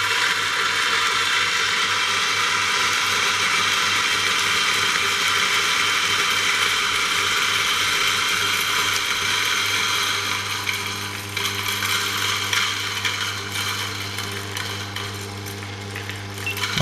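A Eureka Mignon Single Dose Oro coffee grinder grinds espresso beans with a steady, loud, close motor whir that holds for about ten seconds, then changes pitch and roughens as the beans run out.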